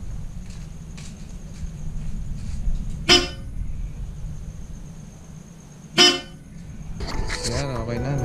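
Bosch Europa horn fitted to a Mitsubishi Mirage, sounding two short sharp honks a few seconds apart, close and loud, with a person talking afterward.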